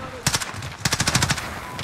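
Two bursts of rapid automatic gunfire in a shooter video game, a short volley followed by a longer sustained rattle of close, loud shots over faint background game ambience.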